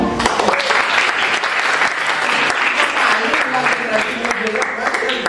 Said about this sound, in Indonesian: Boleh tepuk tangan loh.